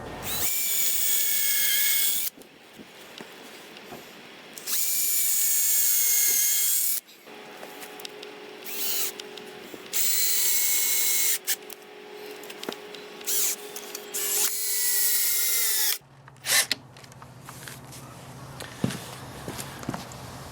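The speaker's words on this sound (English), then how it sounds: "Now to screw the bottom pieces together." A power drill drives screws into the wooden bottom pieces of a bench house, with several loud whirring bursts of a few seconds each, separated by quieter handling, tapping and shuffling noises close by.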